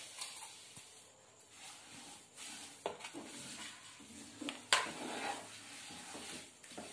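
Roasted sesame seeds are stirred in a pan for a sweet, the spoon scraping and rubbing softly against the metal with occasional sharper knocks, quiet and close with no talk.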